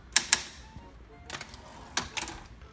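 Several sharp keystrikes on a Script Olympia SM8 typewriter, two quick clacks, a pause, then a few more scattered strikes, close and crisp against a quiet room.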